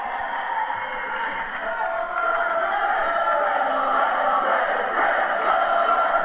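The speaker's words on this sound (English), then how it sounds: "crowd is going berserk. They are having a great time here" A crowd at a live NXT UK wrestling show in Cambridge cheering for the tag team Mustache Mountain, with a broad, sustained roar that swells midway and stays loud, under a talking voice.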